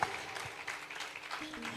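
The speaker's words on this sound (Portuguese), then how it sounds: "Você pode aplaudir esse Jesus lindo e maravilhoso, porque Ele é e sempre será." A church congregation applauds in praise, a soft, steady patter of many hands that stays fairly faint throughout, with a hint of voice mixed in.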